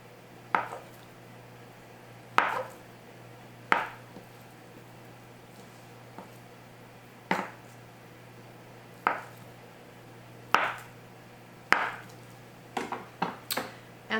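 Extra firm tofu being cut into cubes with a knife on a board: about a dozen sharp, separate chops spaced a second or two apart, quickening to a rapid cluster at the end, close and fairly quiet over a low steady hum.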